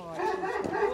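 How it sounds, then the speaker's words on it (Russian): Village dog giving a drawn-out, howling bark, a single tonal, wavering call heard at moderate distance. "А тут такие собачки живут нехилые, чувствуется."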